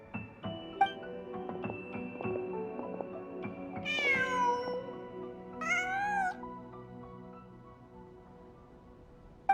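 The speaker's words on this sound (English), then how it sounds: "Just a cat." A cat in the video game Genshin Impact meows twice, two rising drawn-out calls a couple of seconds apart, over a sustained soft musical background with no voices.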